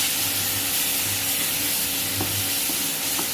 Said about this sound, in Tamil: இஞ்சி பூண்டு பேஸ்ட்டு தக்காளி பச்சை வாசம் போகிற அளவுக்கு நல்லா வதங்கணும்.